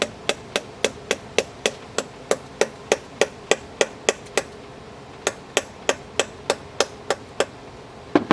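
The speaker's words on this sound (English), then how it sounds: "See, just some light tap, they'll come off." A light hammer taps steadily on steel shunts on a Rambler generator during repair, about thirty sharp metallic strikes at an even pace, close and distinct, with a short break midway.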